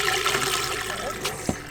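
Water rushing steadily through a shaken siphon hose aboard a boat in a marina, a continuous close gurgling flow with a brief splash near the end.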